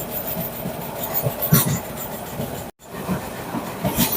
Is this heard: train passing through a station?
yes